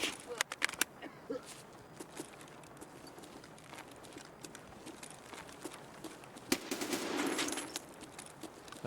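Sharp gunshots crack out in Escape from Tarkov, a cluster of quick shots early on followed by scattered single reports, then a swelling rumble with another loud shot near the end, over faint background ambience.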